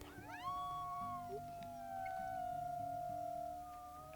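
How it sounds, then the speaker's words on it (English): Wolves in the WolfQuest game let out long, rising howls that overlap and hold steady, with a mid-distance chorus over a faint background and no speech. "So we howl."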